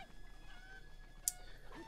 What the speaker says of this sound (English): Two chickens!